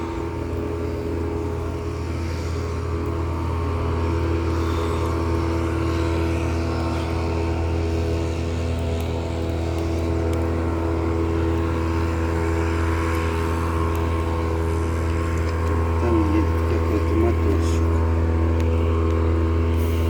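A motorboat running on Lake Seliger, its engine a steady, fairly loud drone that holds without a break for the whole stretch.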